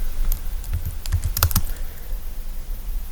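Fingers type on a computer keyboard in a quick burst of close clicking keystrokes, then the room falls quiet.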